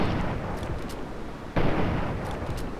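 A gunshot fired from the hip in the video game Fallout 3 cracks sharply midway through a short stretch of low, rumbling game ambience.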